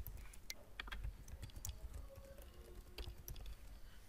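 Keystrokes from someone entering login credentials on a computer keyboard, a steady run of light close clicks over a low background hum.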